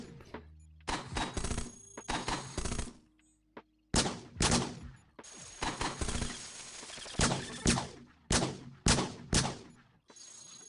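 Flak guns firing in the Cogmind video game: a loud series of sharp burst blasts, some grouped in quick clusters with brief pauses between, each ending in a decaying rumble.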